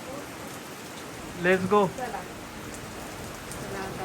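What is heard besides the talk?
rain falling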